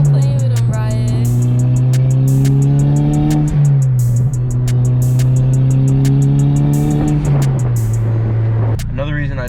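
A boosted Honda Civic with a bone-stock K24 Z7 engine, recently fire-damaged, drives with a loud, close engine drone rising in pitch through two gear shifts, with sharp ticking clicks repeating overhead.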